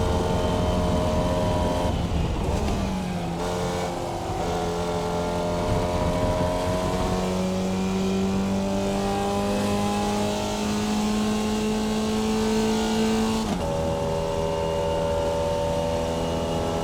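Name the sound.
Formula Vee race car engine in iRacing video game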